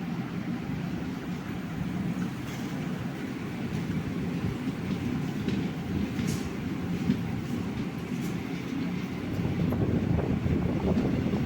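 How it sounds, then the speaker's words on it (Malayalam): A passenger train runs between Karuvatta and Thakazhi stations in Kerala, a steady loud rumble of wheels and carriages with wind noise heard from on board, swelling near the end. "നമ്മുടെ ട്രെയിൻ തകഴി സ്റ്റേഷനിലോട്ടാണ് വന്നിരിക്കുന്നത്"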